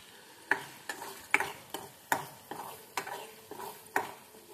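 Ginger garlic paste stir-fried for chicken pickle: a low sizzle runs under regular scrapes of a spoon against the pan, about nine sharp strokes in steady rhythm, close and alone with no voices.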